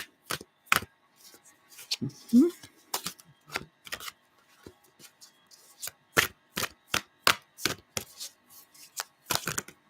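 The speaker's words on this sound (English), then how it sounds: "I need to shuffle them a bit more." Rapid flicks and riffles of playing cards being shuffled, in quick bursts spread across the clip, with a brief murmur of a voice near the start.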